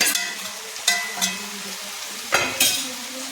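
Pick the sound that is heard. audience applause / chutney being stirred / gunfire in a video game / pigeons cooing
chutney being stirred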